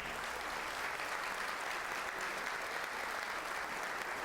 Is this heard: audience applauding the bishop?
yes